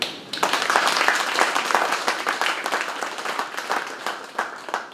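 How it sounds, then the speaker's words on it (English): Audience at an outdoor Juneteenth celebration in Mounds View breaking into applause, a loud burst of many hands clapping that rises quickly and then thins and tapers unevenly over a few seconds. "I think you all get a round of applause for being here and for doing that."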